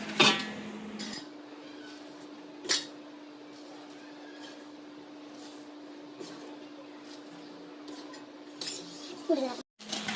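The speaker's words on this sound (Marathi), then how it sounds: "असं ढवळून घेऊन हे बघा असं ढवळून घ्यायचं आहे चांगलं" Spoon stirring hot oil tempering in a pan for poha chivda, with a few sharp metallic clinks against the pan over a steady low hum, a louder clatter near the end.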